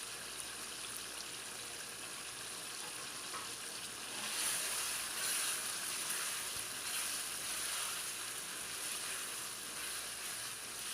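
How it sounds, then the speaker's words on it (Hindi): Green chillies and mutton fry in a karahi over a medium flame, giving a steady, close sizzle that swells louder about midway and holds without any talk. "मीडियम फ्लेम पे इनको 3 से 4 मिनट तक हम अच्छी तरह से फ्राई करेंगे"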